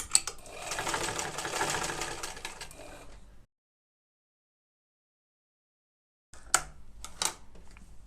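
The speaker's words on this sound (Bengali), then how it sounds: "এবার আমি এই সাইড এবং গলার এই সাইডটা সেলাই করে নিব" A sewing machine runs close up as it stitches the side and neckline of a baby frock, a dense whirring burst for about three seconds, then silence, then a few short stop-start clatters.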